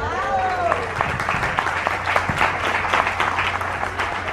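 An audience at a business leadership event in Mexico breaks into steady applause, dense and fairly close, with a voice briefly heard over it at the start.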